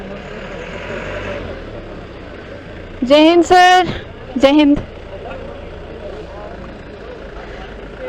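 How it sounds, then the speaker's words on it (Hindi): Busy road traffic near Himalayan Bird Park in Shimla, with a steady low rumble of passing vehicles, broken around the middle by two bursts of loud tonal horn honks and a brief exchange of greetings over it. "यहाँ हो रहा है काफ़ी ट्रैफिक।"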